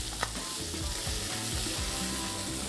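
Lamb chops marinated in L&P (Lea & Perrins) sauce sizzling steadily and loudly in a hot pan, a continuous dense crackle with a brief sharper pop near the start and no voices.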